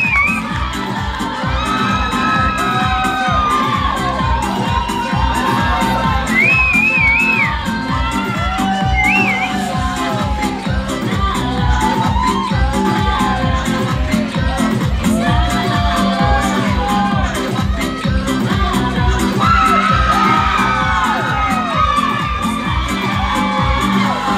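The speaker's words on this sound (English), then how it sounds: "Let's get this crowd going." A bodybuilding championship crowd cheers, whoops and yells for a bikini model class, a loud, dense and continuous roar of shouting voices with rhythmic clapping throughout.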